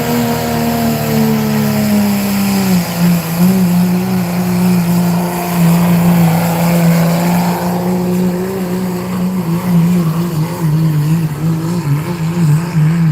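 A turbocharged pulling truck with a smaller turbocharger roars at full power during a truck and tractor pull in Selinsgrove, PA: a loud, continuous engine bellow whose pitch wavers and climbs across the pull, with no voices over it.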